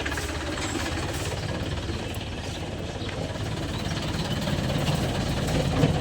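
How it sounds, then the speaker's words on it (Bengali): A JAC truck's turbo diesel engine idles with a steady, rough low rumble and a faint knocking rattle, close and continuous with no talk. "কচকচ করে ইঞ্জিনটা"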